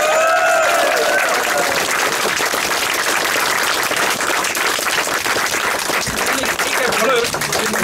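Warm, sustained applause fills the room for a royal decoration ceremony in Lieshout, where a man is appointed to the Order of Orange-Nassau, with dense steady clapping from a gathered crowd and voices murmuring underneath.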